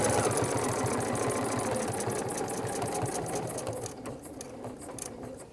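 A sewing machine stitches steadily during ruler quilting, its rapid needle chatter running continuously and close, easing slightly softer toward the end.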